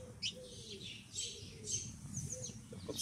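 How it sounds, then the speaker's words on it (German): A small bird landed nearby outdoors. Its brief, high chirps come and go across a faint, low background rumble. "Da ist ein Vogel gelandet."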